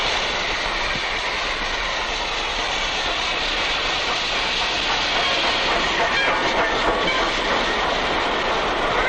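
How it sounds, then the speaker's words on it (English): A train rolls past at close range, a dense, continuous roar of wheels and rail noise with faint rhythmic clatter, staying loud and steady throughout without any talking. "Hey, come on, here's the train."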